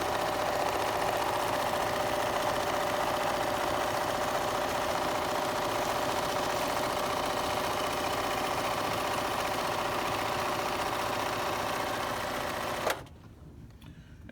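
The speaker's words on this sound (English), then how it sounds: "See how this Bernina can free motion on leather?" A Bernina 330 sewing machine free-motion stitches leather in straight stitch, giving an even, continuous mechanical hum for about thirteen seconds before it abruptly stops.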